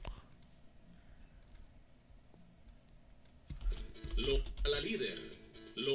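Computer mouse clicks while editing audio, several sharp, faint clicks spaced out in the first seconds, then louder sound and a speaking voice take over toward the end.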